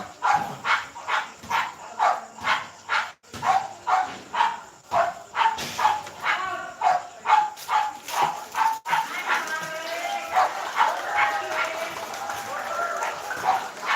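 A dog barks repeatedly in a steady rhythm, fairly close, then the barking gives way to yelps and whimpers near the end.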